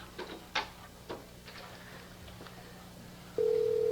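A car phone rings with nobody picking up: faint clicks and knocks, then a steady electronic ring tone starts near the end and holds.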